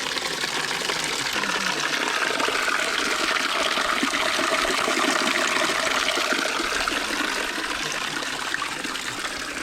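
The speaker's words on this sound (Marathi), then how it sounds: "इथे गोमुखातनं पाणी पडतं" Cool spring water pours steadily from a carved stone cow-mouth spout at Keshavraj Temple in Dapoli, Konkan, making a close, continuous splashing rush with no break and no voices.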